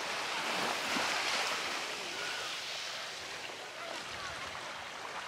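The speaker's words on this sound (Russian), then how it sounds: "Ну, а я покажу вам пляж Сан-Ремио." Ocean surf at San Remio beach in the Philippines makes a steady broad wash, with wind buffeting the microphone and no distinct individual wave breaks.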